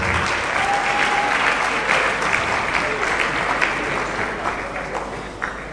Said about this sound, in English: Let's clap for the Chancellor again.